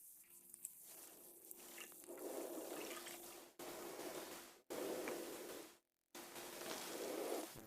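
A pint of strong wine is poured from a vessel in a period Spanish naval food setting, giving a soft, steady liquid rush and trickle in several pours with short breaks between them, quiet and close.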